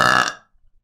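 A single loud, close burp, rich and harmonic for under half a second, then breaking off into near silence with a few faint low thumps.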